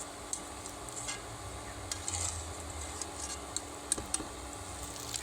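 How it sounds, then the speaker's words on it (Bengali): Homemade potato kurkure snacks fry in a pan with a faint, steady sizzle, punctuated by occasional light ticks and clicks of utensils, quiet and close, no voices. "সুন্দর ভাজা হচ্ছে দেখুন"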